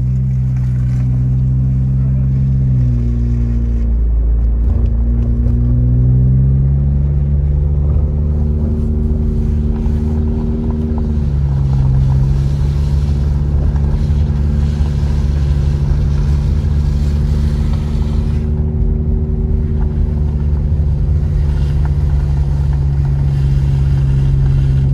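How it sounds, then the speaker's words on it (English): A car drives down a steep snowy road in Big Bear, California: a continuous loud engine drone with shifting pitch as it changes speed, heard from inside the car, with faint talking. "Nervous about driving down because we're going down a steep way"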